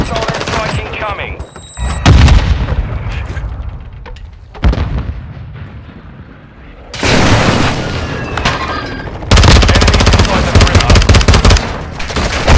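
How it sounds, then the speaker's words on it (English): Airstrike explosions and rattling machine-gun fire in the video game Modern Warfare 2 come in loud bursts, with heavy booms and sustained volleys separated by brief quieter gaps. "Hostile airstrike incoming."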